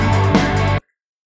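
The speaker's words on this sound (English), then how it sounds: "a sides component, which by itself sounds like this" The side component of a stereo music mix plays alone as a dense, full-range wash of sound. It lasts under a second, then cuts abruptly to silence.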